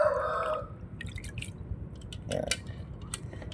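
Quiet water drips and small splashes, a few scattered drops against a faint background, with one soft sloshing moment midway.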